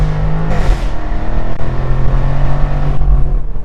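A Jaguar F-Type R engine, switched to dynamic mode, dropping into second gear and revving hard, a loud, close, rumbling roar that rises in pitch as it downshifts, then holds a strong throaty drone.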